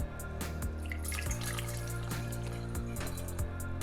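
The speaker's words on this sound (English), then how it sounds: "we're going to start by putting 1 cup of warm water in the bottom of our fermentation vessel." Warm water runs into a glass fermentation vessel for winemaking, a close, continuous trickling fill with a gurgling tone and small drips.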